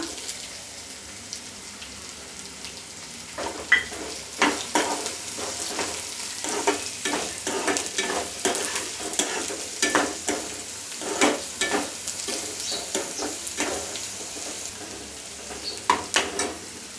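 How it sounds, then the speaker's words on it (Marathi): Garlic and onion frying in oil until reddish, a low steady sizzle with frequent clattering stirs and scrapes of a spatula, close-up and continuous with no voices. "लसूण थोडंसं लालसर होईपर्यंत तेलात परतत राहायचं"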